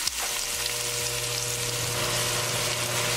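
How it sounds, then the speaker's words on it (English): Chopped onion frying in a pan for lamb curry, with a steady, continuous sizzle close by throughout, a brief clink at the start and a faint low hum underneath, no voices. "Cooking onion for 2 minutes."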